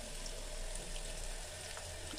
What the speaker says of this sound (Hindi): और इसमें डालेंगे पानी